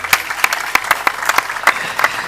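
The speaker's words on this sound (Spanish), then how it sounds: "eso merece un fuerte aplauso para Tania Tejera" Applause for Tania Tejera at a sports and social media round-table in Los Llanos, La Palma, with sharp, distinct claps coming in loose bursts, fairly close and moderately loud, and no one talking.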